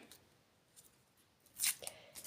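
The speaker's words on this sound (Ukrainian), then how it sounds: "Давайте візьмемо наш пакетик і розпакуємо." A paper surprise packet being unpacked by hand, with faint rustling early on and then a few sharp, close crinkling and tearing bursts near the end, with no talk.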